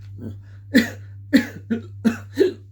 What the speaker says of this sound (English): hiccup and a cough